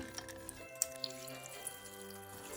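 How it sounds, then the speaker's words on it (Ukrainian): Dried apples, pears and prunes are rinsed in a saucepan of water, giving soft sloshing and trickling with scattered drips and light clinks. The sound stays quiet and close, and no one speaks. "Ретельно їх промиваю"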